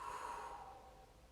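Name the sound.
exhaling through the mouth with a whoosh sound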